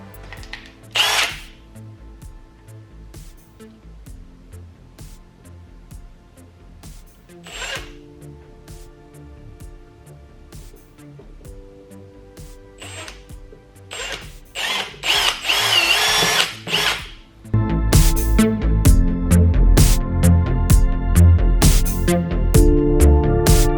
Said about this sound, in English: We'll start drilling our holes.